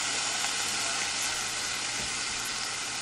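Barbecue meat sizzling steadily on a hot indoor grill at home, a dense continuous frying hiss close up with no talking.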